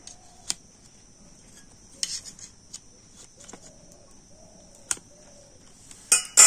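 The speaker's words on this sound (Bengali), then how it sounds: "আপনারা আপনাদের পছন্দ মতো পিস করে এই মাছের ডিমটা এইভাবে কেটে নেবেন।" A knife cuts fish roe into pieces, producing a handful of sharp, separate taps and clicks spaced irregularly over quiet background noise, with two quick knocks close together at the end.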